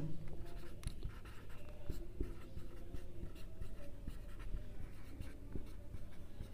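A pen writes a geometry solution by hand on paper, close and quiet scratching strokes in an irregular rhythm with small taps, without talk.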